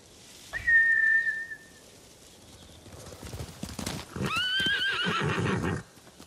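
Horses in the PS4 game Ghost of Tsushima whinny loudly in two high, drawn-out neighs, with galloping hoofbeats and commotion rising between and beneath them.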